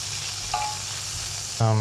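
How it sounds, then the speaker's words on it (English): Butter melting in a hot pan gives a steady close sizzle throughout, then a loud burst of frying as more goes in near the end. "Melt that butter."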